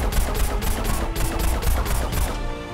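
Shots fired in the video game Plants vs Zombies Garden Warfare 2, a rapid, steady burst of repeated blasts running almost the whole time, loud and close, with game noise beneath.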